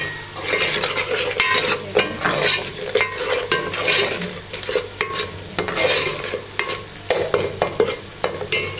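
Curry for aloo matar salan being stirred in a pan, a metal spoon scraping and clinking in repeated strokes over a low sizzle, close and lively, with no one speaking.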